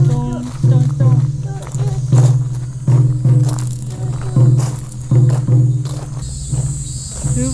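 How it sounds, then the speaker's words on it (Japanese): Cicadas singing outdoors during a family outing on steps, a steady high buzzing drone running under a loud, rhythmic pulsing hum and brief background sounds. "セミ鳴いてるぞ。"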